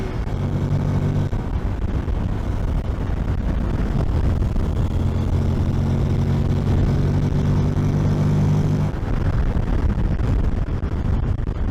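A Honda NC 750X motorcycle engine revs hard while accelerating on the road, a loud, steady droning roar with rising and falling tonal harmonics as it pulls through the gears, wind noise underneath, no talking.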